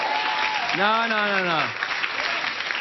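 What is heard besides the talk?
audience applause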